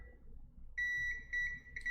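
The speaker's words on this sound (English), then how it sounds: "So this cap shouldn't be beeping here" Multimeter continuity tester on a laptop board capacitor shorted to ground, giving faint, close electronic beeps, one sustained tone followed by short repeated ones in a quiet room.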